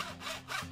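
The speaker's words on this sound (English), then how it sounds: "Cutting the aluminum profiles with that saw" Aluminum profiles cut to length with a saw for a DIY Prusa i3 3D printer build, a close, steady rasping cut that swells twice within under a second, with no voices.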